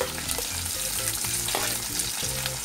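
Onion drops into hot oil in a pan for dry prawn sukha jawala, producing a close, steady frying sizzle with rhythmic stirring.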